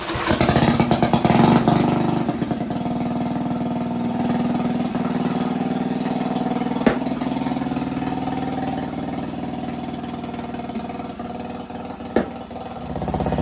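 A riding lawn mower engine runs steadily at close range after carburetor repair, a loud continuous idle with a brief rev near the start and small blips later.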